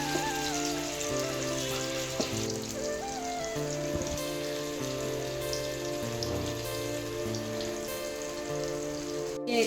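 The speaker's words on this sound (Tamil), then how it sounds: "இப்போ மீனை வறுத்துருவோம்." Four fish frying in hot oil in a pan give a continuous, even crackling sizzle that runs throughout, partly masked by steady background music.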